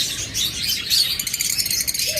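Pet lovebirds or budgerigars in a sale aviary chirp and tweet in a busy, overlapping chatter, close and fairly loud, with a brief soft call near the end.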